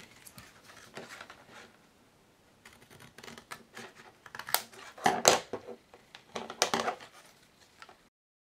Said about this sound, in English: Now you want to cut it up to that little dot.